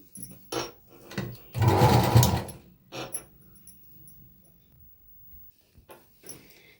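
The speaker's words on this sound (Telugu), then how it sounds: "దీన్ని డబల్ స్టిచ్ వేసుకుందాం సేమ్ రెండో వైపు కూడా అలానే స్టిచ్ చేసుకుందాం" A sewing machine stitches cloth for a small girl's petticoat, running in one loud, close burst of about a second amid quieter handling clicks and taps, with no talking.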